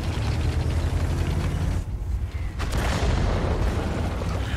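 Tank cannon fire and explosions in a tank battle video game, with IS-7 heavy tanks in play: a dense, continuous rumble of booming blasts with a brief dip midway before the loud barrage resumes.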